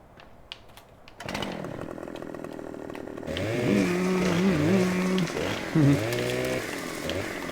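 A chainsaw in Farming Simulator starts up and revs while trimming limbs off an oak tree, a loud buzzing whine that rises and falls in pitch with changing engine speed.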